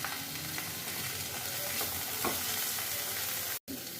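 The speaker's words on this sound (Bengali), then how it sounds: "রসুনটা ভালো করে একটু কষিয়ে নিলাম। এবারে দেবো আমি আদা বাটা।" Garlic and ginger paste fries in a pan with a continuous crackling sizzle and occasional stirring scrapes, fairly close and even in level, cut by one brief dropout near the end, with no voices.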